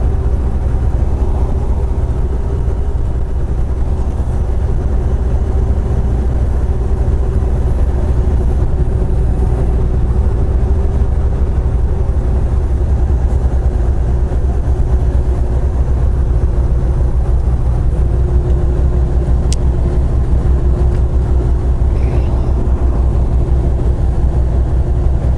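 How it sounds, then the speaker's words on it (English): A truck engine with its jake brake engaged gives a steady, loud, low droning rumble that holds for the whole stretch with no talking. "Jake brake engaged"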